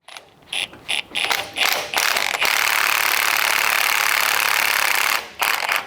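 Bursts of rapid mechanical ratcheting, then a long continuous grinding whir from a power tool driving a ball joint press on a 2009 Nissan Xterra, ending in a few short bursts.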